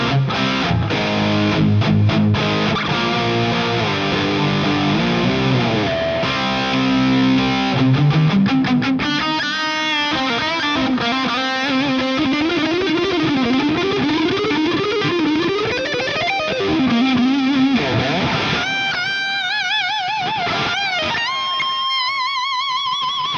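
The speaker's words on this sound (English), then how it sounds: "HBE channel is really versatile. Even though it has a lot of gain, it's undoubtedly dynamic." An electric guitar plays through the high-gain HBE channel of a Friedman BE100 Deluxe tube amp, with heavily distorted chugging riffs and chords giving way to sustained bending lead lines, loud and close with no talk.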